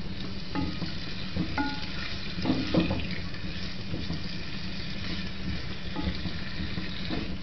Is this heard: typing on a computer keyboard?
no